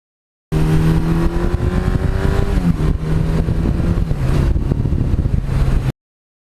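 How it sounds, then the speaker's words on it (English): A 1982 Suzuki GS1100E motorcycle engine rumbles loudly up close through its stock exhaust, the deep note steady with a slight rise and fall in pitch. "that beautiful classic sound that came stock with the bike"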